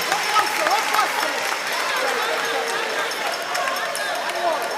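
Audience applause for university teams at a live gas-industry quiz contest between UMAT and KSTU, dense steady clapping over a roomy hall with an announcer's voice mixed in.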